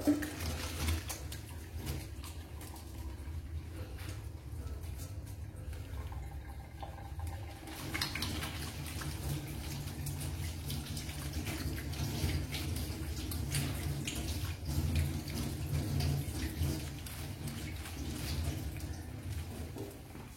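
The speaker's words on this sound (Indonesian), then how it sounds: "Setelah itu kita cuci tangan 6 langkah, basahi tangan pakai sabun." Hands being washed with soap under a running tap before a postpartum physical examination, a steady close rush of water with shifting splashes as the hands move, no talking.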